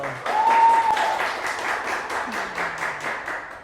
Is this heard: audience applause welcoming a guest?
yes